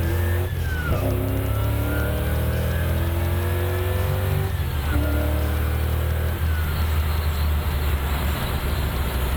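A 650-horsepower LSA-engined 1970s Chevy Nova muscle car with a T56 manual gearbox accelerates hard. Its engine roars loudly and climbs in pitch, drops as it shifts gears, then climbs again, with no talking.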